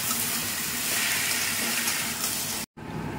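Water pours into a cooking pot holding chicken with turmeric, salt and a little sugar, making a steady close rushing splash that cuts off abruptly near the end, then resumes more quietly.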